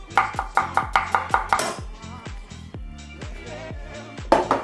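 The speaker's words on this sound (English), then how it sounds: "Finely slice a large onion and add it to a pot with a little olive oil" A knife finely slicing a large onion on a board, a quick run of sharp, evenly spaced close chops that slows into softer irregular cuts, then a final burst.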